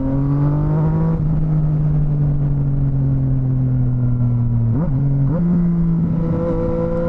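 A Yamaha XSR900 motorcycle in first gear hums at a steady, loud engine drone that sags slightly, then dips and climbs again as throttle is eased on near the end.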